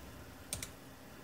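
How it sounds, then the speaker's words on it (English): Two quick keystrokes tap close by on a Dell Latitude E5410 laptop keyboard while a password is entered, each a short, crisp click over quiet room tone. "So I'm just going to type it in here."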